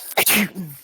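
A single sharp sneeze bursts out close by, a quick intake followed by a forceful explosive burst.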